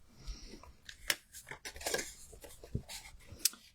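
Scissors snipping string for a handmade card, a few sharp close cuts scattered among quieter handling rustles, with no talk.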